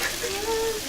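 Ethiopian food frying in oil in a kitchen, a steady close sizzle and crackle with a faint tone running beneath it.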